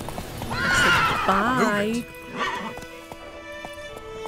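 A horse in The Witcher 3 whinnies loudly with a wavering neigh, then gives a second shorter call, followed by faint hoof clip-clops; a voice speaks briefly over it.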